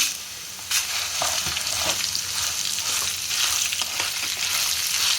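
Green chillies fry in hot oil for khara avalakki, a steady, close crackling sizzle with brief sharper pops and spatters, and no one speaks.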